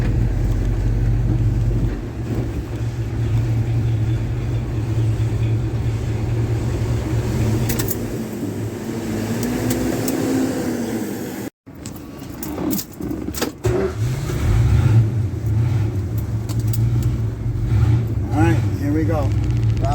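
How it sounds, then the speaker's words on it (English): A 1970 Plymouth Duster, back on the road after sitting for two and a half years, rumbles along with a steady low engine drone and road noise inside the car, briefly dropping out midway. "this is the first time this car's had road under its wheels in"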